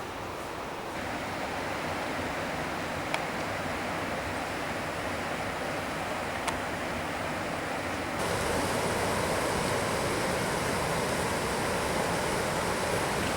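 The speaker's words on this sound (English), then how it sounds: "where the water is cascading down behind me" Rushing water of the River Wharfe forced through the narrow rock gorge of the Strid in Strid Wood, a steady broadband roar that swells louder partway through, with no voices.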